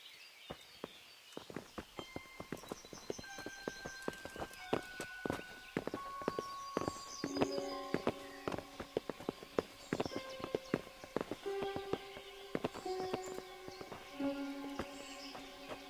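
Horses walk in the video game Kingdom Come with scattered, irregular hoof and footstep clicks. Sustained musical tones and an ambient backdrop fill the scene, and no one speaks.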